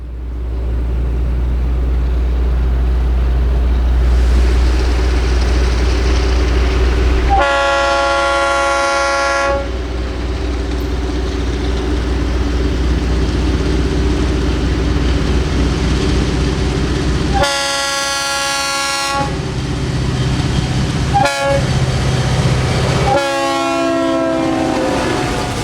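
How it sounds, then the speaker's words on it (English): A Florida East Coast Railway train rumbles past loudly and steadily at a dirt road crossing after rain, its horn blaring in several long blasts that come and go over the continuous rolling clatter. "the rain had let up a little by the time the train was upon us"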